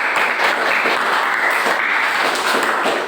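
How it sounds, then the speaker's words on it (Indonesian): Loud, close applause from a classroom audience after a group presentation, a thick, continuous burst of clapping that runs evenly from start to finish. "Kasih tepuk tangan."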